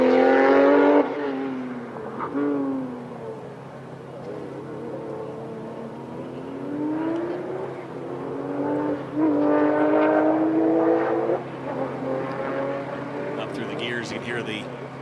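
A race car engine charges up the Pikes Peak hill climb course, revving and shifting through gears in rising and falling sweeps, heard at steady volume with commentary talk layered over it.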